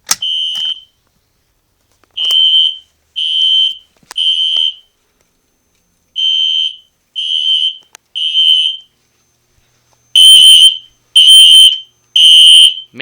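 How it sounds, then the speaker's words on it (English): A building fire alarm system under test blares very loud high-pitched electronic tones in repeated short bursts with gaps between, the last few bursts harsher and louder. "these alarms are just so crazy loud"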